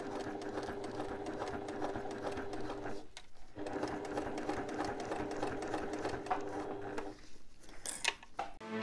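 A sewing machine runs in long continuous bursts while stitching a backpack seam along a zip, loud and steady, with two brief pauses between runs.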